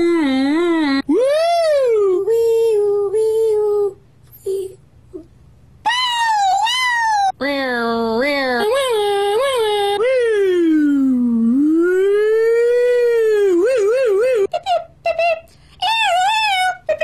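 A person's voice imitates a police siren, long rising and falling wails repeated loud and close, with short pauses between phrases.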